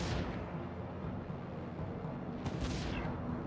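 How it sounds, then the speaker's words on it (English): Cannon towers in the tower-defense game Defense Grid fire as a continuous rumbling barrage of booms, loud and dense, with a sharper report near the end. "the cannons do more damage and they got more distance to do damage"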